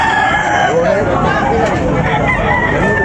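Roosters crow at a busy chicken market, loud drawn-out calls rising over clucking and crowd chatter, with people talking nearby.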